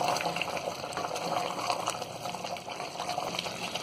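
Fried onions sauté in a mutton curry masala in a pan, a continuous close sizzle and bubbling that holds steady throughout without any voices.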